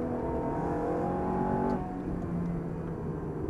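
A Ferrari 430 on a race track at Sydney Motorsport Park gives a steady, loud engine drone that shifts pitch midway as it accelerates, with continuous wind and road roar underneath.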